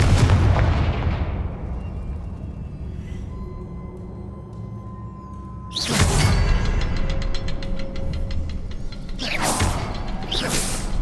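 A Confringo fire spell blast in the Hogwarts Legacy video game lands as a loud burst with crackling impacts, followed by further sharp bursts near the end over a steady game ambience.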